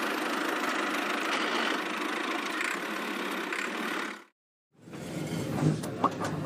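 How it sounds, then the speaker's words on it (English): A tractor engine idling steadily with a low rumbling knock, continuous and fairly loud, broken by a short silent gap before the running resumes. "This is a tractor."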